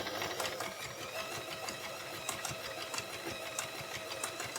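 A Family Hobby Line 39 sewing machine runs steadily while stitching fabric at a stitch length of about four, its needle tapping in a fast, even mechanical rhythm, close and fairly quiet with no talk over it.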